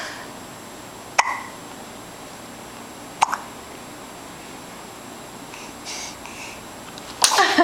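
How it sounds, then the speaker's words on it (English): A three-month-old baby hiccups twice in sharp, isolated bursts a couple of seconds apart, close and moderately loud against a quiet room, followed by faint fussing sounds. "hiccups."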